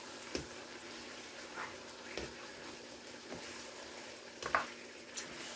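A sour cream mixture for a casserole is stirred in a bowl, giving faint, sparse scrapes and soft taps of a utensil at irregular intervals against quiet background hiss.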